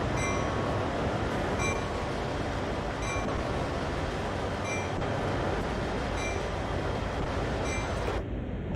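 A train rolls along steadily at about 27 miles an hour in the Train Sim World game, with a loud, constant rumble and periodic clicks from the rails before the sound cuts off abruptly near the end.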